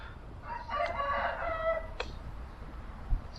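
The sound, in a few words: rooster crowing in a Japanese village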